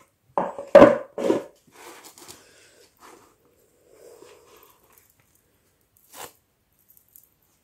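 A tablet's packaging is torn and opened in a few loud, close crinkling and ripping bursts, followed by softer rustling and a short final scrape in a quiet room.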